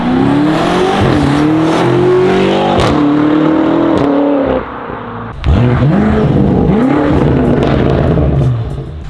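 A 2022 BMW F92 M8 Competition with an Akrapovic exhaust roars past, loud and raspy, revving hard through gears, briefly dropping off, then blasting by again before fading.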